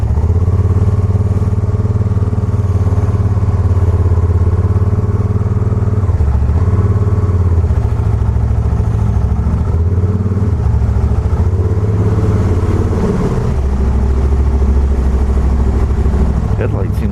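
A Spyder RS-S three-wheeled motorcycle running steadily while being ridden, its engine a loud, continuous low drone close by with slight dips and swells in revs, no one talking over it.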